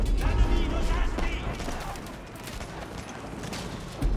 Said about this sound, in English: the bombards, or the French cannons taking out that keep there